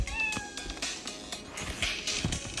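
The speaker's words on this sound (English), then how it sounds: "Look at that cat!" Close, clear meows come from a cat at a grandmother's house, a few short calls repeated over a couple of seconds with light household noise in the background.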